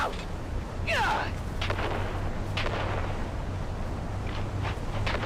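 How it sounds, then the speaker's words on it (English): Grenade explosions in the video game Dune: Awakening, several muffled booms rolling over a steady low background, with a voice briefly heard. "On 3, quick grenade and move!"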